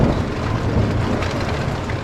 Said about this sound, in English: Pretty hardcore thunderstorm going on right now.